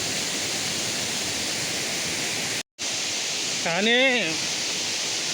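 Kothapalli waterfall gives a steady, even broadband roar heard from a distance, briefly cut off once, while a voice speaks over it near the end.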